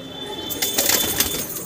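Pigeons in a coop at a Delhi pigeon seller, with a burst of close wing flapping and rustling over soft low cooing, lasting a second or so.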